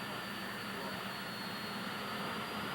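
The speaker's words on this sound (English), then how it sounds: "an exhibition involving the jet cars, and the noise is absolutely incredible here" Jet cars at a drag-racing exhibition producing a steady, distant, broadband jet roar that holds constant throughout.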